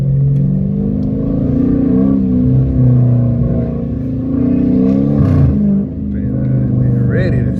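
A catless Dodge Challenger R/T in traffic roars through its loud exhaust, revving and accelerating with rising and falling engine tones, heard up close from inside the car.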